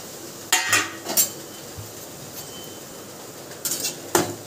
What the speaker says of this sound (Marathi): आता हा रवा आपण भाजून घेऊ